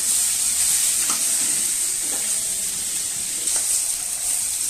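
Flour-dusted rohu fish sizzles steadily in hot oil in a pan, an even close hiss with soft stirring clicks and no talking.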